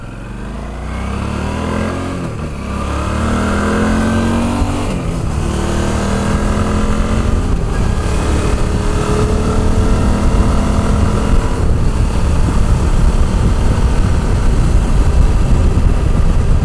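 A Suzuki V-Strom 650 motorcycle engine runs loud and close, its pitch climbing as it accelerates through gears, then settling into a steady roar mixed with heavy wind rush for the rest of the ride.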